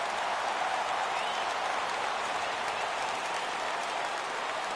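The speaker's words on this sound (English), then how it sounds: "Crowd gets up for the 3-2." Baseball video game stadium crowd rises and cheers on a full 3-2 count, a steady wash of distant roaring and applause that holds evenly for several seconds with no talk over it.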